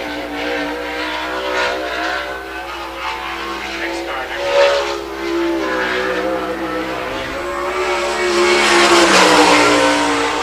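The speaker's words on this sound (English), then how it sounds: "The Nefco Racing 5S, it's Max Stambaugh on the clock." A sprint car on a timed qualifying lap at a Great Lakes Sprint Series race on the I-96 Michigan track, its engine droning steadily and swelling louder toward the end beneath a public-address announcer's voice.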